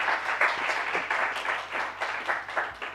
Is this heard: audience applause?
yes